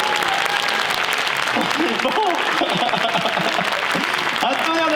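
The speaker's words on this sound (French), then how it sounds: "Un tonnerre d'applaudissements pour Sarah, s'il vous plaît" Thunderous applause from a large arena audience at a mentalism show in Strasbourg's Zénith for a volunteer named Sarah, dense continuous clapping with someone speaking briefly over it.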